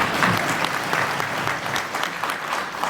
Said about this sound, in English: You can clap. Somebody is clapping.